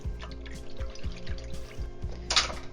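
Full-fat sour cream is whisked into a pan over medium-high heat, making a steady, rhythmic scraping and sloshing of the whisk against the pan, moderately close, with a brief brighter clink near the end.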